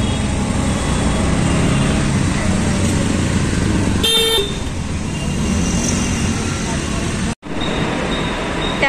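Busy road traffic with auto rickshaws in Maharashtra during Diwali travel, a loud continuous engine and road roar close by, with a brief high tone midway and a short dropout near the end.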